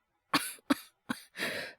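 A young man sick with fever and asthma coughs four times up close, giving three sharp short coughs followed by a longer, raspy, drawn-out one in a quiet room.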